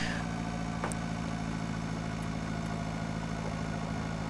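Zetter 80 tractor engine in the farming game Pure Farming 2018, a steady low idling drone that holds evenly throughout, close and continuous, with no speech over it.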